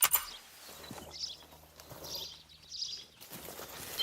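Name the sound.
grouse call in the video game The Hunter: Call of the Wild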